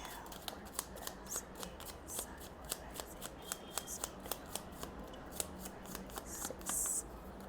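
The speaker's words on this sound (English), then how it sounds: "let's do the shuffling once again" Tarot cards are shuffled by hand in a quiet room, with a run of crisp, evenly spaced riffling snaps and soft slides repeating over several seconds, close and fairly faint.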